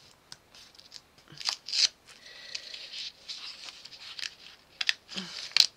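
Paper for a stair-style greeting card is cut and torn by hand in short, quiet crisp snips and rips, coming in irregular bursts with brief pauses between them.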